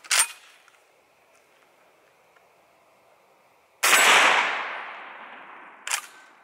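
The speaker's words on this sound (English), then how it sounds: "now we're back at 25 yards, shooting the same 9 pellet double op buck" A shotgun fires 9-pellet double-aught buckshot at a steel target from 25 yards; one sharp, loud blast with a long reverberating tail outdoors, bracketed by shorter sharp cracks at the start and end.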